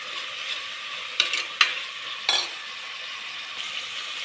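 Peas, onion and capsicum frying together in a pan for tomato bath: a continuous bright sizzle broken by a few sharp spoon scrapes and clinks as the vegetables are stirred, no talk.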